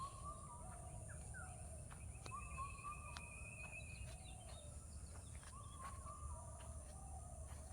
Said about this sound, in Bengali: পাখির কুহু কুহু ডাক শুনতে পাচ্ছেন